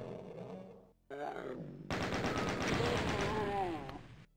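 In the classic DOOM video game, a loud burst of explosions and rapid gunfire erupts after brief sound effects, sustained and crackling for a couple of seconds, with grunting creature noises and game music mixed in.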